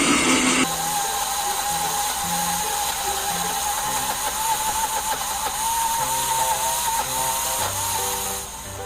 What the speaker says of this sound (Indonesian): Setelah itu kita haluskan menggunakan blender hingga benar-benar halus.